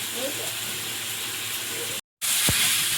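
Taro pieces fry with spices in a pan, giving a steady broadband hiss that continues throughout, broken by a short dropout. A brief low-pitched sweep follows near the end.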